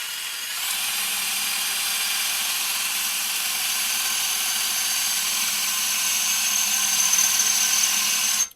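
A power drill with a dull bit runs continuously for several seconds, giving a loud, steady, hissy high-pitched whir with a low hum beneath, then cuts off abruptly.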